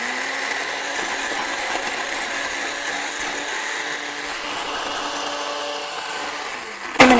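An electric kitchen blender whirs steadily as it purees strawberries and sorbet, a loud continuous motor drone with a sharp clatter of the jar and lid at the very end.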